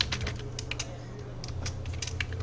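Python code is typed on a computer keyboard, quick close-up key clicks that come in short uneven bursts with brief pauses between them, heard alone and fairly quiet.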